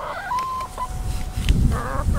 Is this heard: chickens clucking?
yes